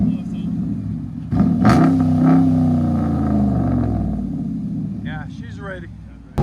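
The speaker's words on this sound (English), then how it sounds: "Ford Expedition muffler and resonator delete." Ford Expedition 5.4L V8 with muffler and resonator deleted revs hard, a loud, near, rough exhaust roar that swells and holds, with people talking over it.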